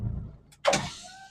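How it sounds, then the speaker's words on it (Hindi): A 2021 Prince Pearl car's power window motor whirs briefly after a click, a short mechanical hum with a faint engine idle underneath. "और पावर विंडो डाउन"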